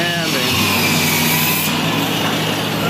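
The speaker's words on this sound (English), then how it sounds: "Sanding." A power sander works a boat in a restoration shop, giving a steady, rough abrasive whir that runs continuously at close range.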